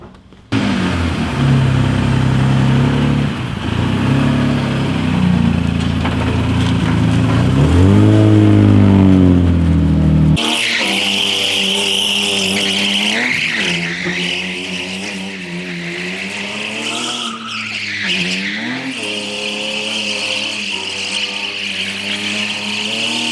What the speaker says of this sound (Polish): I zobaczcie, jak kręci to bączki.